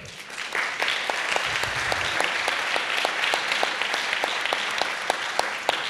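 Steady applause from a lecture audience, dense and continuous, with a few sharper individual claps standing out in a regular rhythm throughout.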